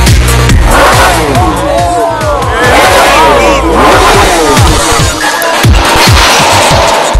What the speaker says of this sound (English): It's reverberating with the sound of engines like this.